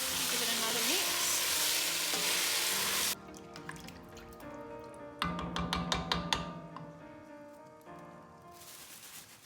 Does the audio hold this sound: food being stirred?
yes